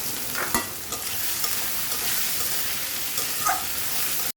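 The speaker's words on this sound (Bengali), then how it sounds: "তো পেঁয়াজটা দিয়ে ভালো করে লাল করে আগে ভেজে নেব।" Onions frying in hot oil with whole garam masala of cardamom, cinnamon and cloves, a continuous close sizzle broken by a few sharp scrapes and stirs of a spoon in the pan.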